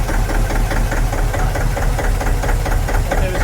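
Narrowboat engine ticking over at idle, a loud close steady rhythmic knocking chug with a heavy low drone throughout, no voices.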